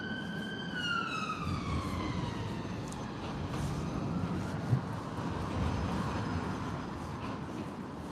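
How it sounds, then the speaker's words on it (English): An ambulance siren wails in a street at night in Blackpool, its falling, wavering tone drifting at a distance over a steady background hum of traffic and town noise. "I can hear sirens. Probably an ambulance."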